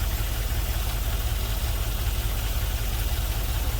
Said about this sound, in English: It's only running on 5 cylinders.